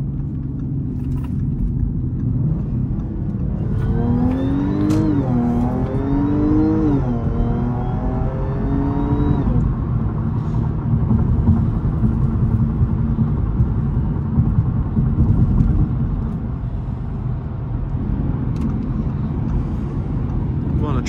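An Audi A7 3.0 TFSI with an APR Stage 1 tune and a cold air intake pulls hard on a highway, its engine note rising in pitch through a gear, then settling into a loud, steady cruising drone with road noise.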